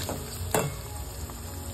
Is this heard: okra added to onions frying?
yes